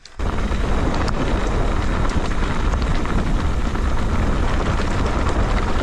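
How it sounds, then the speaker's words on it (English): Steady outdoor wind buffets the microphone in a continuous loud roar with low rumble, on an open stretch of New Zealand's Alps to Ocean cycle trail; no talk is heard. "coming down here it feels like wind"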